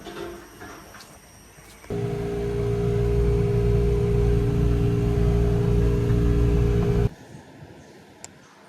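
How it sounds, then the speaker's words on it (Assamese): A car is started and driven a short distance from one side to the other. Its engine drones loud and steady for about five seconds, then cuts off, leaving quiet surroundings. "আৰু দেউতাৰ গাড়ীটো মানে এইফালৰ পৰা সিফালে লৈ যাব লাগে বোলে"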